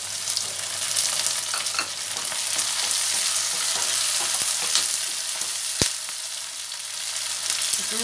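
Okra frying with tomato in a pan for a spicy bhindi dish, a steady close sizzle with occasional stirring scrapes and a brief sharp clink.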